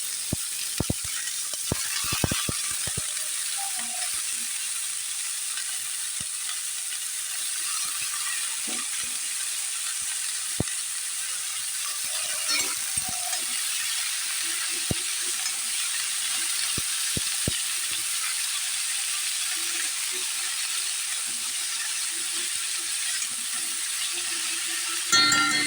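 Salted snake gourd fries in a pan with a soft, steady sizzle and hiss, broken by a few faint clicks and stirring taps over about 25 seconds.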